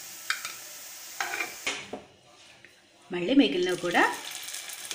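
Potato and semolina cutlets fry in a pan, a crackling sizzle with intermittent stirring clatter, and a voice speaks briefly over the cooking toward the end.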